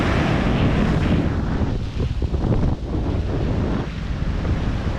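Sea waves and strong wind on the coast after morning rain: a continuous loud roar of surf with gusty wind buffeting the microphone, no voices.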